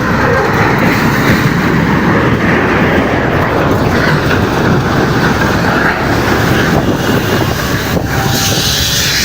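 Train rumbling along railway tracks in Semarang, Indonesia, at a level crossing where a container truck had stopped on the rails; a loud, steady broadband roar with wind buffeting runs unbroken throughout, with no voices.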